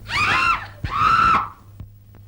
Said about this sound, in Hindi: बुढ़िया की चीख अभी तक मेरे कानों में गूंज रही है